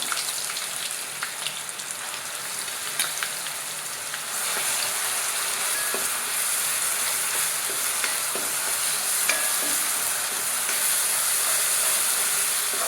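Ginger garlic paste fries in sesame oil for a lemon dates pickle, giving a continuous close sizzle and crackle that grows louder and denser partway through, with occasional faint stirring taps and no speech.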